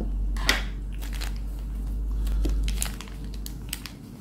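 Plastic packaging around a set of race shock internal components is cut open and pulled apart, giving a few close crinkling and crackling rustles with scattered sharp clicks, quiet and without talk.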